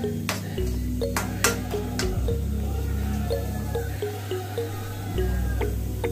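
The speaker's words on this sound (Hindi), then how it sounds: "थोड़ा सा पानी डाल दूंगी जिससे मसाला है ना अच्छे से हो जाए" Water poured into masala frying in a home kitchen pan gives a wet bubbling, dripping and squishing sound, close and fairly loud, with small pings and clinks throughout.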